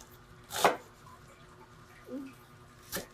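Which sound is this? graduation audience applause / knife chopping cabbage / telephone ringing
knife chopping cabbage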